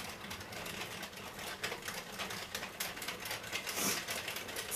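An Addi Express King hand-cranked knitting machine clatters rapidly and steadily as it is cranked, a dense close-up mechanical ticking running throughout.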